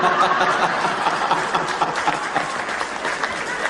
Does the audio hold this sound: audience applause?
yes